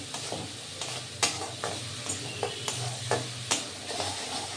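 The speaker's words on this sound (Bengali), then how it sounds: "ভালো করে নাড়তে হবে হ্যাঁ" A spatula scrapes and taps through coriander leaf paste with salt and turmeric in a pan over a faint sizzle, a series of quiet, irregular strokes with no talk.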